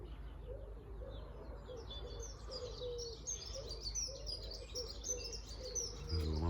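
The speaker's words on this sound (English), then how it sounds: "You hear all the different birds now." A mix of wild birds chirps and sings beside a quiet road, with repeated short calls over a soft, steady low rumble of background noise, fairly faint and without speech.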